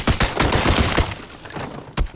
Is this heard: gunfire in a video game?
yes